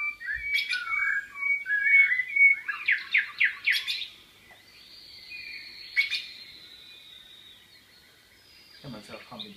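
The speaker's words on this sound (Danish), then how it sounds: "Det er fuglefløjt." Birdsong from a sound setup's ambient channel: clear chirps, trills and whistled notes in quick bursts, fairly close and bright, then sparser calls with a fainter background hiss.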